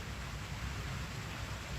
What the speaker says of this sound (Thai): ฝนก็ลงมาปล่อยๆด้วยนะคะ